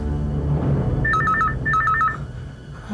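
A telephone rings in two short bursts of trilling bell tones over a steady background hum, with no speech during the rings.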